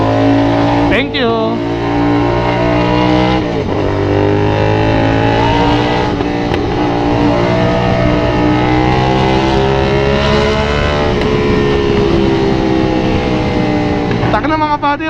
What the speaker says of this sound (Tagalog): ramdam na ramdam ko yung gigil talaga sa exhaust eh. Sulit na sulit talaga yung full system para sa 450 SR